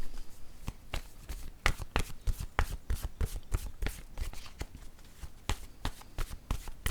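Deck of tarot cards being shuffled nearby, a rapid run of crisp, riffling card slaps and flicks in an irregular rhythm, heard alone without talk.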